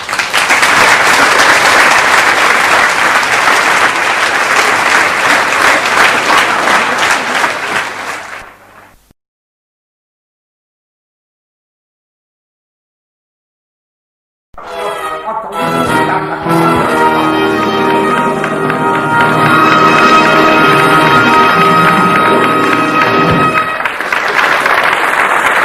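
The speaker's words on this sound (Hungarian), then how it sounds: "Hát, ha már ilyen kis finom tapsod" Audience applause in a live Hungarian comedy show, a loud dense clapping crowd that fades to total silence, then swells back with music and renewed clapping.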